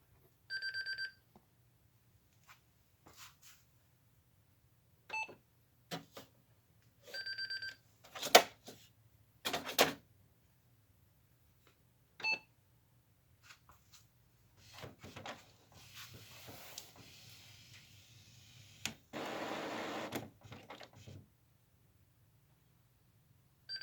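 A Canon printer powers on, giving short beeps and mechanical clicks and whirs in separated bursts against near silence.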